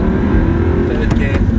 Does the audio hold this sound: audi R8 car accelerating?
yes